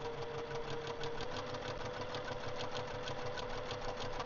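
A sewing machine stitches fabric for a quilted fat quarter basket, running steadily with a fast, even mechanical chatter and hum, close by and moderately quiet, no voices.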